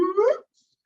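A voice imitates a sonification tone for a y equals x graph, a brief smooth hum sliding upward in pitch for under half a second, close and fairly loud, then silence.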